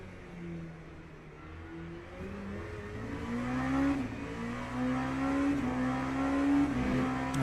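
An LMP2 prototype race car engine in the racing sim Le Mans Ultimate, quicker and more aggressive than an LMP3. The engine drones steadily, then revs up and climbs through the gears in rising whines, loud and close.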